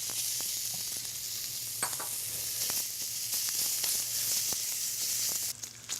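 Pancetta browning in a warm frying pan, a steady, moderately quiet sizzle and crackle that runs continuously with occasional sharper pops.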